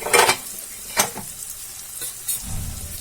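Masala fries in oil in a pan for matar paneer, with a soft steady sizzle, a few sharp stirring scrapes of a spoon against the pan, and a louder stir near the end.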